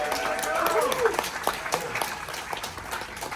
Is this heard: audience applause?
yes